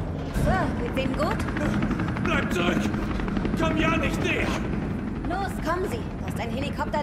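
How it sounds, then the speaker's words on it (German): A helicopter in the Resident Evil 3 Remake video game drones with a steady rotor thrum throughout, mixed with character voices and other game effects. "ist ein Helikopter, der sie in Sicherheit bringt."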